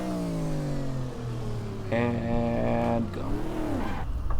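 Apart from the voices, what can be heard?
Corvette L76 engine revving in GTR2 racing video game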